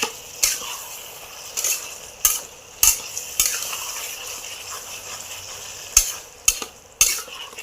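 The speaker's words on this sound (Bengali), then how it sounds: "পটল আর চিংড়ি মাছ দিয়ে আমি মিনিট 5 কষবো।" Pointed gourd and prawns sauté in a pan with a continuous sizzle, broken by repeated sharp scrapes and clanks of a spatula stirring against the metal.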